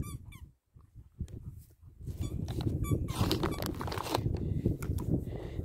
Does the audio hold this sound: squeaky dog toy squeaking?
yes